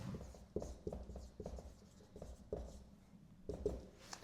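Chalk or marker writing on a board, a series of short scratchy strokes and taps in an uneven rhythm, close and fairly quiet, with no talk.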